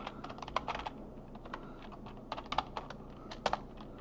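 Computer keyboard typing in quick irregular clusters of crisp, close keystrokes with short pauses between, alone over a low steady room hum.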